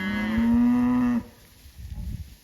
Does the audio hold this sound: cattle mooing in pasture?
yes